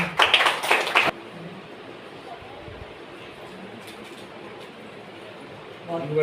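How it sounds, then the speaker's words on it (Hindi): An audience at a rural handicraft design training programme in Varanasi claps in a brief burst of dense applause for about a second, followed by quiet room noise and faint taps. "मतलब तालियां हो जाए"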